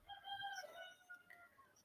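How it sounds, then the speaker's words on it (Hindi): A rooster crows outdoors, faint and distant, one drawn-out cock-a-doodle-doo over a low background hiss. "मुर्गे की भी आवाज आएगी, कुकड़ू को कर रहा है बाहर बैठ के"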